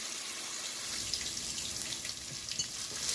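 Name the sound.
tomato seafood chowder base cooking in pot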